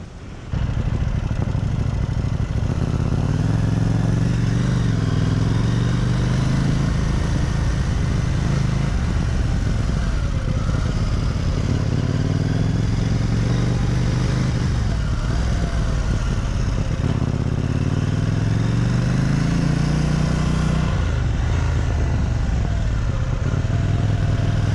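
A KTM 790 Duke motorcycle rides on a road in track mode, its engine droning loud and steady with repeated rising revs through the gears, heavy wind rush throughout.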